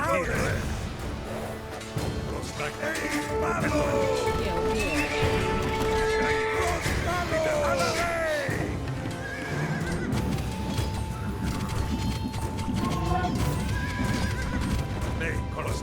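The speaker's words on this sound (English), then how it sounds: "What grand beasts these horses are." Horses neigh and whinny repeatedly over a dense bed of clopping hooves and battle clatter in Age of Empires II: Definitive Edition, loud and continuous throughout.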